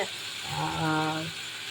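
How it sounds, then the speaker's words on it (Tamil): Gongura leaves and onions fry in a pan for a sardine dish, giving a soft, steady sizzle throughout. A brief voice-like hum overlaps the middle of the short clip. "ஸோ நம்ம இப்படியே தான் வறுக்க போகிறோம்."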